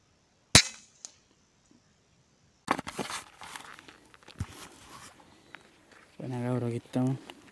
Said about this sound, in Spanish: Primer disparo de la noche,